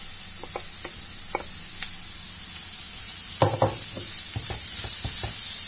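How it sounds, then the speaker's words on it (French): Onions, carrots and courgettes fry in a pan with a steady close sizzle and hiss, broken by scattered clicks and scrapes of stirring that grow busier toward the end. "Maintenant que mes oignons ont coloré, je vais rajouter les carottes et les courgettes en même temps."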